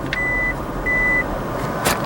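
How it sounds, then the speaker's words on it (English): A Toyota Prius sounds its warning chime because the emergency brake is still on: two long, steady beeps close inside the car, followed by a short click. "Why are you beeping? Why is it beeping at me?"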